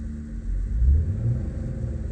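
A manual car's engine revs unevenly as a learner driver lets the clutch out while giving gas, a steady low rumble that swells and surges without any talk.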